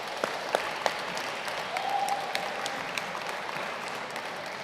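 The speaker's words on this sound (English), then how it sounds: "Let's give Laura a round of applause." Modest applause from a small audience at a poetry anthology launch night, soft and even, with a few sharper individual claps standing out.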